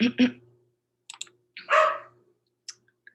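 A dog lets out a quick double bark, then a longer louder bark a moment later, interspersed with a few light clicks in an otherwise quiet room.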